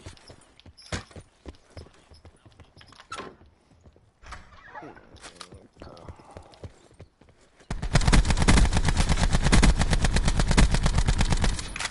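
Rampart gunfire in a video game starts as scattered shots and clatter, then becomes a loud sustained burst of rapid automatic fire near the end.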